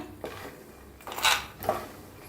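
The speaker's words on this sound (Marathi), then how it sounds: "बरं कसा आवाज यायला लागलाय शेंगदाण्याचा" Peanuts roasting dry in a pan without oil: a few scattered clattering rattles and scrapes of nuts against metal, with a brighter burst in the middle, close and fairly soft.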